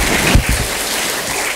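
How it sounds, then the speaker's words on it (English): An audience at an inauguration for a mobile science exhibition claps in a dense round of applause that holds at a steady level throughout. "It's a big round of applause."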